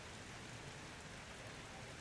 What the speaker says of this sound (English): in the final race of the night here at Navarra as the rain smashes down